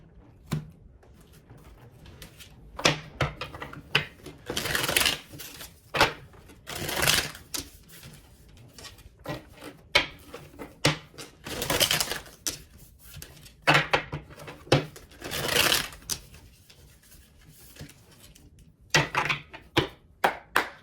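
Tarot cards are handled and shuffled, producing repeated close riffles and rustling swishes in irregular bursts, broken by sharp taps and short quieter gaps.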